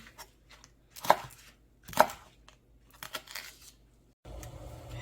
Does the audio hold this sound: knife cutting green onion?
yes